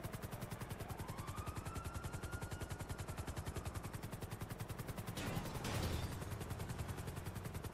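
Rapid, steady gunfire rattles continuously in GTA Online, shooting at a vehicle engine, with a whooshing burst and a loud blast partway through.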